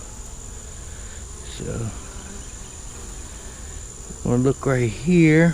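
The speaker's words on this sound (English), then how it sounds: "Got a lot of bees in it." Honey bees from a late June swarm hum in a continuous, fairly quiet drone as a frame is pulled from the hive, with someone talking close by over the buzzing.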